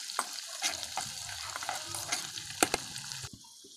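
Garlic, ginger, onion and chili sauté in a pan for spicy bagoong, with close sizzling and repeated scraping stir strokes that stop just before the end.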